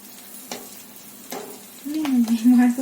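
Onion and chilli bajjis fry in hot oil, a steady close sizzle with a few clinks from stirring, swelling louder and bubbling toward the end.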